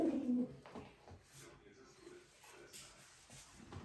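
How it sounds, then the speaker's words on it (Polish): Racing pigeons in a loft give low, muffled coos, strongest at the start and then faint and intermittent, with quiet background movement. "Jest następny gołąb."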